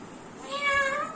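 A cat gives a single drawn-out meow, moderately close and clear over a quiet background in a home where a black-capped lory parrot is kept.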